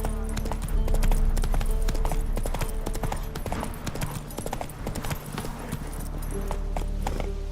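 The horse Roach gallops in The Witcher 3: Wild Hunt, with a rapid, continuous clip-clop of hooves running close and loud throughout, over a game soundscape.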